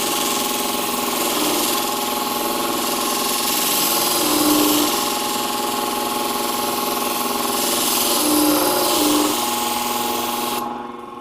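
A Katoku System shear sharpening machine spinning near 1300 RPM to put a finer bevel edge on shears, a steady motor whine with abrasive grinding that swells slightly twice before cutting off at the end.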